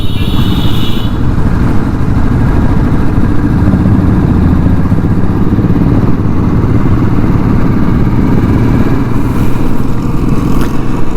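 Motorcycle engines rumble steadily and loudly throughout a large group bike ride of over a hundred riders heading to Kolli Hills, a continuous dense drone with no breaks.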